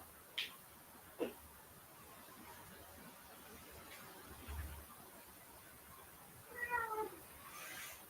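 Cat meowing faintly in a quiet room, a few short distant meows scattered across a low background hiss, with no talking.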